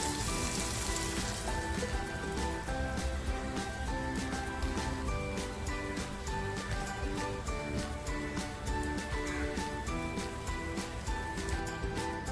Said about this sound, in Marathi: कांदा मंद आचेवर पाच मिनटं वाफेवर ठेवून देते